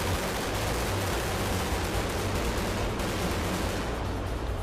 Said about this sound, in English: And we give him the 16-gun salute.